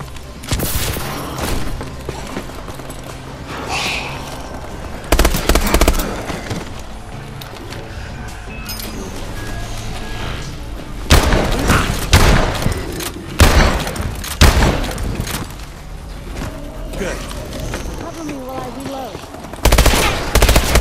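Sustained automatic gunfire and explosive booms in Call of Duty: Advanced Warfare zombies mode on Xbox One, loud and dense with repeated bursts throughout, while players talk over it.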